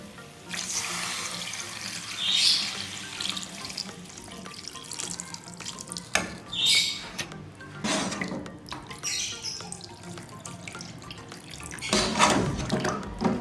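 Water pours and splashes into a metal pot of mutton karahi in uneven bursts, with faint clinks of cookware in between.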